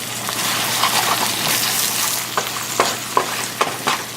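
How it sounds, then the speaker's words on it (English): Vegetables sauté in a pan with a loud, close, continuous sizzle, broken by a few sharp clicks and scrapes of stirring. "So my veggies are all sauteed, yummy."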